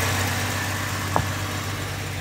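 Slant six engine idling after its first start in 13 years, a steady close low rumble with an even drone and one brief soft knock partway through, no talk.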